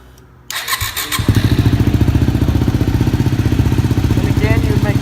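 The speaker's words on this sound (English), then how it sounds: "So I'm going to go and start the bike." A powersports bike's engine is silent at first, then cranks and catches within a second and settles into a loud, steady, rapidly pulsing idle close by.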